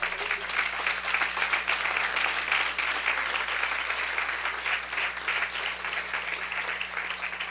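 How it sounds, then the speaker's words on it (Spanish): Steady applause from a church congregation during a Spanish-language sermon, a dense, sustained wash of clapping at moderate volume that carries evenly for the full length with no talk over it. "déle ese aplauso al Señor"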